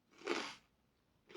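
Two crisp crunches close to the mic, a loud bite followed by a pause, then the start of another, as teeth break through crostini.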